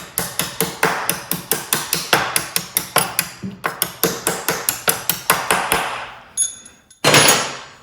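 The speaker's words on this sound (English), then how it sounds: "Here I'm just going to take a little hammer." A small hammer strikes metal in quick, steady blows, about twenty sharp taps, then a brief pause and a couple of final hits, while footpegs are installed on a KTM motorcycle.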